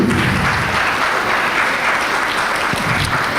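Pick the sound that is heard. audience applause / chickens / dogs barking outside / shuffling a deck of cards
audience applause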